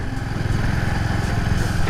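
A tractor engine runs steadily in a village, a continuous low, throbbing rumble that stays close and fairly loud throughout, with no voices over it.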